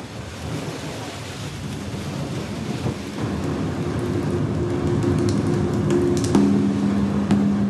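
Heavy rain pours steadily in a thunderstorm on the Algerian coast at Jijel, with a deep rumble of thunder building underneath and a low hum rising toward the end, dense and continuous.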